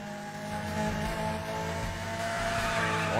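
A Datsun 240Z roars loud and close in the Need for Speed racing game. The engine drones continuously while the tires squeal in a sustained skid, and no one speaks.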